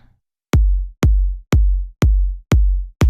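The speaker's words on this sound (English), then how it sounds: "deep house kick. Nothing crazy here." Deep, punchy deep house kick drum sample hits repeat at a steady rhythm, six thumps with short boomy tails and sharp clicks, loud and alone.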